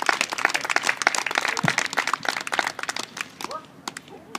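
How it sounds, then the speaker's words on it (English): A golf clinic audience applauds to welcome golfer Tom Pernice Jr., a dense patter of many hands filling the room, with talk mixed in before it tapers off near the end. "We'll give a big round of applause. Thanks for coming out, Tom"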